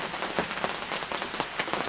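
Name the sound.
heavy rain falling on a greenhouse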